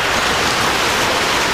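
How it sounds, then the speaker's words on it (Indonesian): Rain falls steadily, a dense, even hiss of drops close by with no other sounds. "Iya, hujan itu."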